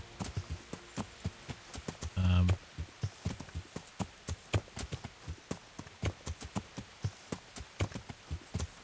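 Horse hooves galloping in Kingdom Come: Deliverance, a fast, steady clip-clop of sharp hoofbeats repeating throughout, with a brief louder thump early on.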